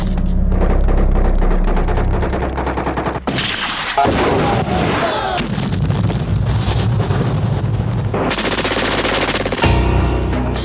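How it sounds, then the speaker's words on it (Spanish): Afghan fighters fire from behind rocks in sustained, rapid automatic gunfire: loud, dense bursts that run almost unbroken, with short pauses and wind-like rushing mixed in, and no talking. "Pero los afganos aparecieron por detrás de las rocas disparándoles."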